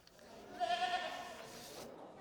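Stud goats, boer goats among them, at a summer agricultural show, with a single fairly close bleat rising for about half a second amid light crowd murmur.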